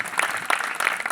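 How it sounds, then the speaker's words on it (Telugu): A congregation at an outdoor gospel meeting claps together, a brief burst of dense, fairly close applause with rhythmic surges and a faint murmur of the crowd underneath. "ఒకసారి గట్టిగా చప్పట్లు కొడదాం, ప్రభు నామాన్ని మహిమపరుద్దాం."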